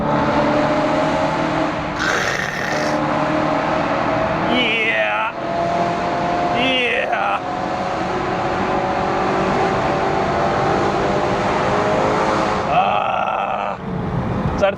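A BMW E92 M3 engine and exhaust roars continuously and loudly throughout, with shifting tones that suggest revving and acceleration, while a voice talks briefly over it.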